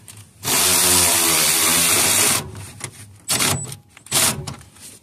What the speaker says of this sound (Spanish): ya que alinearon el tornillo, solamente lo aprietan